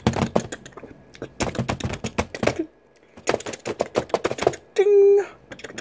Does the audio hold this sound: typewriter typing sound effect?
yes